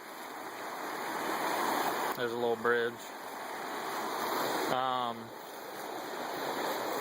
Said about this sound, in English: It's right next to a stream.